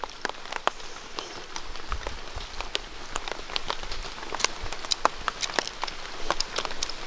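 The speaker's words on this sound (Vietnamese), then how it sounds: "Đang khá là mưa rồi đó" Rain falling outdoors in a forest camp, a steady dense patter of drops on surfaces with sharper individual drips throughout, close and continuous, no voices.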